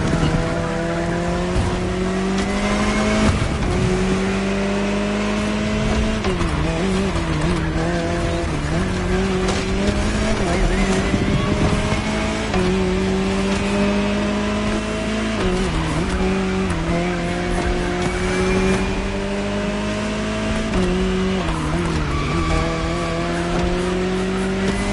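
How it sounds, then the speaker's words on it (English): Jaguar CX-75 concept car in the racing game The Crew, its engine droning and shifting pitch steadily while tires squeal and skid through corners, loud and continuous throughout. "Jaguar CX-75 concept."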